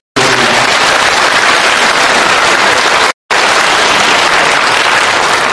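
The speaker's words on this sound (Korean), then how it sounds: "우리 봉사자 여러분에게도 감사의 박수 드리겠습니다" An audience at a Buddhist dharma talk gives the volunteers a loud, sustained round of applause, dense clapping heard up close, broken once by a brief silent gap before carrying on.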